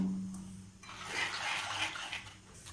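Water pours in a brief, splashing stream into a cooking pot, rising and then tapering off after a couple of seconds.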